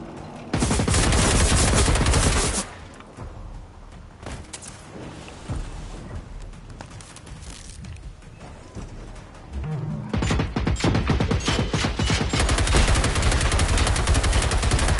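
Loud automatic gunfire from a weapon in Generation Zero, with a hard burst at the start, a quieter patch of scattered shots and movement, then sustained rapid fire returning for the final seconds.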